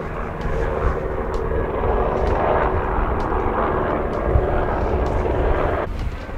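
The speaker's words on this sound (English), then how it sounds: "and then we got this one little plane" Small plane engine droning steadily at a remote northern airstrip in Pickle Lake, Canada, a loud continuous propeller hum that holds for several seconds before easing slightly at the end.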